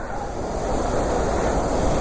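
A steady, loud rush of water flowing through a tunnel during heavy monsoon rain roars without pause, a dense continuous wash of noise with no voices.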